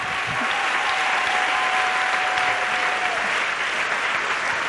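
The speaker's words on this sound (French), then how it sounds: "Clap for the Lord." A church congregation claps together in sustained, dense applause, steady and loud from start to finish, with a faint tone running through the middle.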